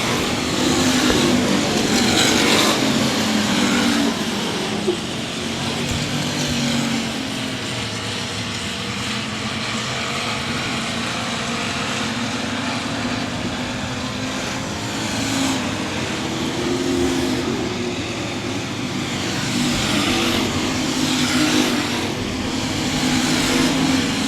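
Race cars at 67 Speedway of Texarkana during a 20-lap feature, their engines droning steadily and loud throughout, with rising and falling roars as cars pass close by.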